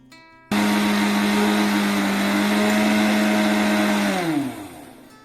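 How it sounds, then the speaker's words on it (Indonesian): A blender grinds dried sambiloto leaves: the motor kicks in abruptly with a loud, steady whirring roar, holds for about four seconds, then winds down as it is switched off. "Kita haluskan daun sambiloto yang kering menggunakan alat blender."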